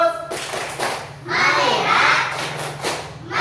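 A class of children perform the 'tepuk 5' clapping chant, sharp rhythmic hand claps in short bursts alternating with the children's chanting voices, close and fairly loud in the classroom.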